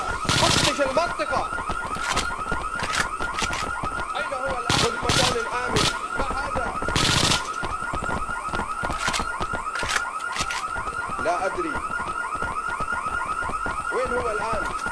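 A looping electronic alarm blares steadily inside the video game IGI 2, sounding throughout at a constant level while in-game guard voices talk over it.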